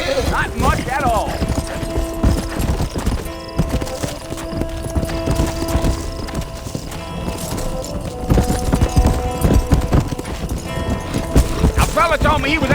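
Steady clip-clop of horse hooves at a ride in the Western video game Red Dead Redemption, rhythmic and close, with dialogue and an occasional whinny over the hoofbeats.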